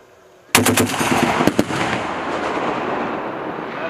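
An M2 machine gun fires a short, loud burst of a few rounds at an outdoor live-fire range, then a long rolling echo and reverberation trail off.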